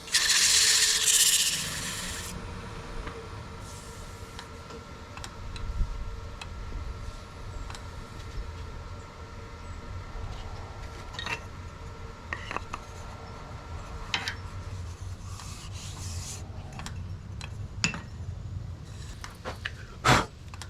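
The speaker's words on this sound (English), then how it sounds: "Go through the sanding process again." A wooden turkey call is sanded by hand with 120-grit paper, producing a soft, continuous rubbing rasp with occasional small knocks and scrapes, close and fairly quiet.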